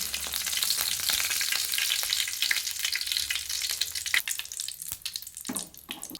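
A dried red chili and a bay leaf drop into a small amount of hot oil in a heated pan, crackling in a close, bright sizzle with sharp pops that grow busier toward the end.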